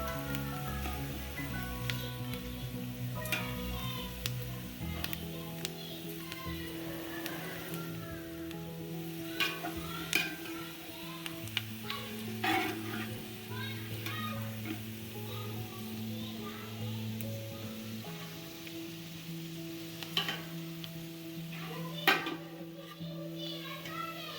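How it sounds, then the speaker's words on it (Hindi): Dried fruits and nuts fry in hot oil or ghee in a pan for Eid sheer khurma, a steady soft sizzle running throughout with a few light clinks and taps above a low background hum. "अब इसको हम मेवों को फ्राई कर लेंगे अच्छी तरह से"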